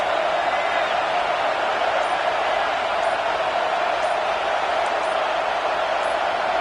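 Loud, steady roar of a packed stadium crowd at a football game during the second quarter, a dense continuous wash of voices holding at full volume throughout with no distinct words.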